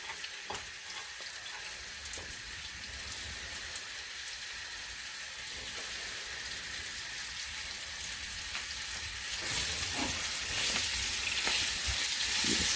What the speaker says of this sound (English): you want to get a pan, you want to get it quite hot, and then want to start adding the steak and get it nice and brown.